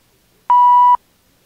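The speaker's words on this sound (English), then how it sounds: "Now simply advance the film one frame at a time at the sound of the beeps." A single clean electronic beep from a 1970s filmstrip cassette soundtrack signalling to advance the frame, one steady mid-pitched tone lasting about half a second, loud and isolated in silence.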